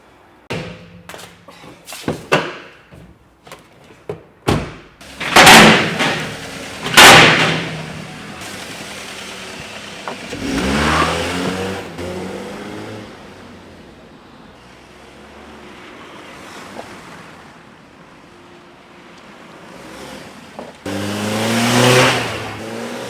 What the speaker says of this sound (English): I'm going to have a little spin around the yard